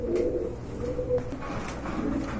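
A pair of racing pigeons coos softly and repeatedly at close range. The calls are low and steady, with no talk.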